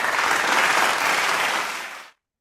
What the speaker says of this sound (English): let us give our virtual clap to our national leader, Reverend Supal Chamron.